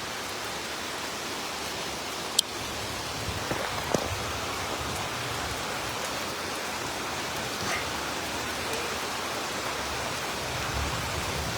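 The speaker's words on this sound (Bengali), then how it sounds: "এইখানে দেখো কি অবস্থা বৃষ্টি হচ্ছে" Heavy rain pouring onto a rooftop, a dense, steady roar of drops that stays constant and close throughout, with no voices over it.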